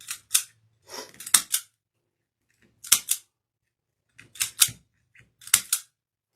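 Scissors snip through purple decorative deco mesh in about six crisp, separate cuts, some paired in quick succession, with short pauses between them, close and fairly loud.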